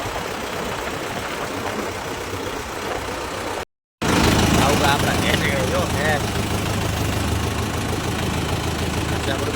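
A tractor engine idles nearby with a steady, rough mechanical rumble that continues while people talk over it. The sound cuts out briefly for a moment partway through.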